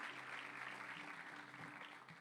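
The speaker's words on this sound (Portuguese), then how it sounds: "vamos aplaudir a Jesus pela banda maravilhosa que nós temos." A church congregation applauding the worship band, a faint, steady patter of clapping that fades slightly toward the end, with no speech over it.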